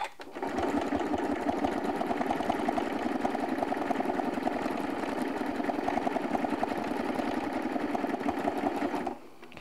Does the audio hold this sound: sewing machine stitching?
yes